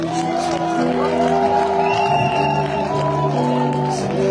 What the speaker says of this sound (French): Est-ce que tu peux le célébrer encore en poussant les cris?